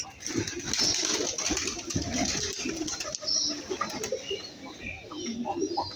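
Pigeons flap their wings and fly off toward their nests outdoors after morning rain, with bursts of wingbeats and soft cooing over a low engine hum in the background, moderately near.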